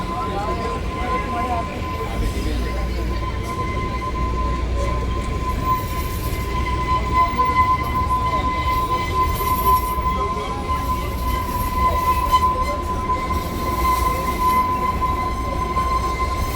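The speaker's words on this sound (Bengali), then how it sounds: "এটা হচ্ছে সামার হিল স্টেশন। ট্রেনে ঢুকছে।" The Shimla toy train rolls into Summer Hill station with a steady rumble of wheels on narrow-gauge track and a thin, sustained squeal throughout, heard from on board while someone talks over it.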